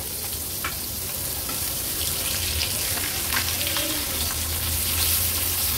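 Karli fish pieces, turned over, fry in oil on a gas stove with a continuous close crackling sizzle and a few soft scraping touches of the spatula.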